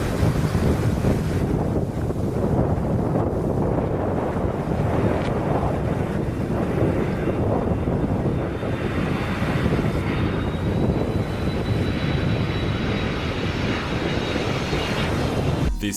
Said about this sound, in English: This plane landing in Japan got turned sideways just before touching down due to strong